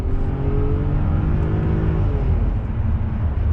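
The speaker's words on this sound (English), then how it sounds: "It's got a really nice sort of deep growl to it." A straight-piped BMW V12 limousine engine revs hard to high RPM in second gear, a loud, close, continuous deep growling roar with rising harmonic whine that holds steady throughout, with no talking.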